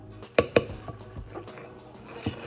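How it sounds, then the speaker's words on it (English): Chocolate chips being folded into cookie dough with a spatula in a bowl, giving a couple of sharp clinks near the start, then softer scraping and tapping, close and fairly quiet. "now I'm gonna mix it, like with the spatula"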